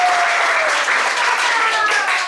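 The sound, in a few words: audience applause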